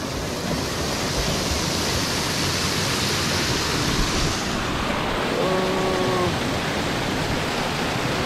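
Rushing water at Bolinao Falls in Pangasinan, a loud, even wash of broadband noise, with a faint short tonal sound partway through.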